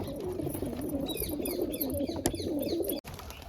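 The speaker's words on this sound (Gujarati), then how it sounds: "કબૂતર તો બોલતું પણ જાય છે ઘૂ ઘૂ" Pigeons cooing in a loft, repeated soft throaty coos layered close together with some faint chirps, steady and near, ending in a sudden break.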